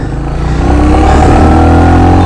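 A Royal Enfield Hunter 350 single-cylinder engine revs through its silencer exhaust, a loud, close, steady thumping drone that rises slightly in pitch and holds, with no voices over it.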